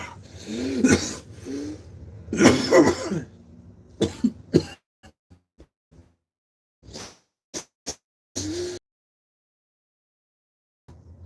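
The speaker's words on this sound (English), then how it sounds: "You could have actually smoked me joint, not cough me lungs up in it" A man coughs hard in a string of harsh, wet bursts, then a scatter of shorter, fainter hacks and throat clears trailing off into silence.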